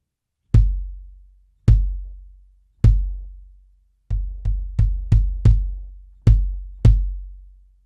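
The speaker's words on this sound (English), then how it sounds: "here's the sound with the sub kick turned on coming off the head" Kick drum muffled by a Sonitus Kicker with the sub kick on and the beater coming off the head, giving deep, boomy thuds with long low tails, a few single hits then a quick burst of five, close and alone.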